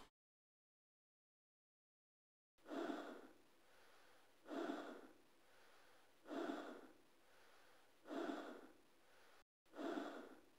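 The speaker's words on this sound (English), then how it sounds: "Here are some annoying breathing noises." Heavy, rhythmic breathing inside a video game EVA suit: five slow, hoarse breaths, each a loud inhale fading to a softer exhale, evenly spaced after a stretch of silence, with no talk.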